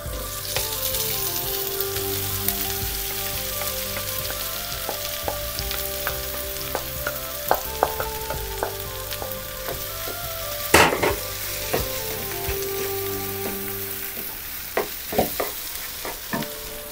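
Potatoes frying in a pan with roasted coriander seeds and cumin, a steady loud sizzle with scraping stirs and a few sharp clinks of a utensil, no voices.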